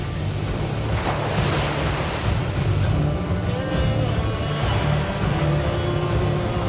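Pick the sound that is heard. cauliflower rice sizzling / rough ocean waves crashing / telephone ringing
rough ocean waves crashing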